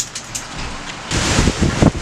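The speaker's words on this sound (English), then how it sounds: "But the rain? Yeah, bring on the rain." Heavy storm rain pours steadily in a downpour, a soft wash that swells sharply partway through into a louder, denser roar with gusty bursts.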